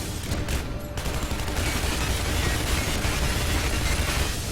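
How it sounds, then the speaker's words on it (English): Gunfire in the Shadow Warrior first-person shooter game, a dense, continuous fusillade of rapid shots that stays loud and steady for the whole stretch with no talk over it. "Shoot his leg."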